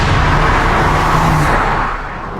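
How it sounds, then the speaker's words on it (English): Engine of a new Ford Focus RS roars loudly up close, a dense continuous growl with strong low rumble that eases slightly in the final half second. "One of my favourite parts of this car is the sound of the engine."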